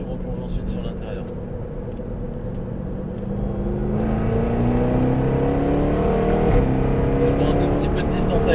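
A Jaguar SVR on the Paul Ricard circuit drones under load, its engine pitch climbing steadily before a brief dip, heard from inside the car while someone talks throughout.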